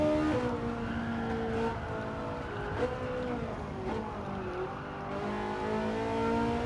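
A Corvette C7 engine in Gran Turismo 7 sings at high revs, a loud, close, sustained engine roar with slight pitch dips at gear shifts and steady acceleration.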